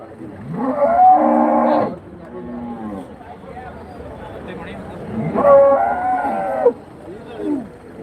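Cattle low loudly at Karimangalam cow market, where calves are sold. Two long moos come a few seconds apart, with a quieter call after, over background chatter and people talking nearby.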